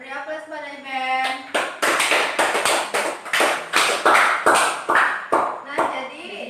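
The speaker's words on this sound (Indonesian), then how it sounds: "Beri aplaus pada Iben." Classroom applause, a group clapping in steady rhythmic unison at close range for several seconds after a brief spoken voice.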